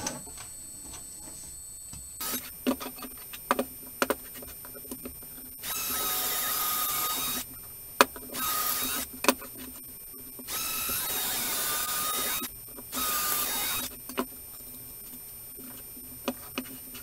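An electric drill works at a woodworking machine's dust extraction setup, whining loud and close in three sustained runs of a few seconds each, separated by sharp clicks, taps and handling noises.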